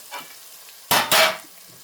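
Prawns frying in a pan for a spicy Gujarati-style dish, a low sizzle broken by two loud, close scraping stirs of the spoon in quick succession, then settling back to a quiet fry.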